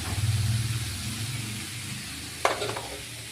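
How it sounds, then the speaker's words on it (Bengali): Bathua and chickpea greens fry with mixed vegetables in a pan, a soft sizzle with low rumbling stirring and a sharp clatter of a spoon partway through. "এই যে বেথুয়ার শাক, ছোলার শাক দিয়ে ভালো করে এটা এখন মিশাবো।"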